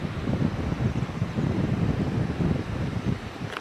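Wind buffets the microphone in steady low rumbling gusts on the Olympic Peninsula, a rough, continuous roar with no voices.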